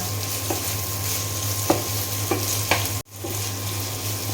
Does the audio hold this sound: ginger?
yes